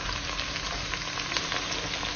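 Regular sardines sizzle and fry steadily in a pan for a Moroccan couscous dish, a soft, even crackle with no talking over it.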